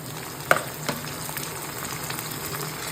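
Tomatoes tipped into a pan of sizzling chili flakes for a Kerala-style prawn roast, a sharp burst of frying near the start and then a steady close crackle of hot oil with no talking.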